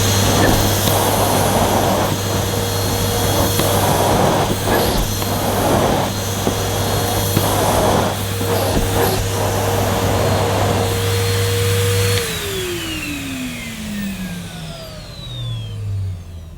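A Henry XL Plus vacuum cleaner runs loud and close on plush pile carpet with a steady motor drone and airflow roar, then winds down with a falling pitch as it shuts off.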